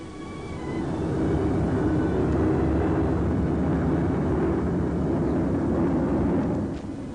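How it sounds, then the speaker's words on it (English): Engines of British Sunderland flying boats ferrying supplies over Burmese jungle, a loud, sustained low droning roar that swells in over the first second, holds steady, then eases slightly at the end. "Over wild Burmese jungles, the British Sunderland flying boats ferry supplies"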